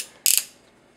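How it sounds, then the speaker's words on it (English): Ratchet joint on a TFC Toys Phobus action figure giving a quick burst of several sharp plastic clicks, close and crisp in a quiet room. "Inward outward ratchet."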